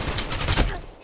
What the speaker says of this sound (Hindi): ऐसे ब्लाइंड फायर कर रहा